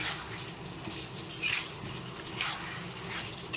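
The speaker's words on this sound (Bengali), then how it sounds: "এবার দিয়ে দিচ্ছি পটল আর আলু ভালো করে একটু মশলার সাথে নেড়ে ছেড়ে নিচ্ছি" Potatoes and pointed gourd are stirred into a spice paste in a pan, with repeated moist scraping and shuffling strokes over a steady sizzling hiss, close up and moderately loud.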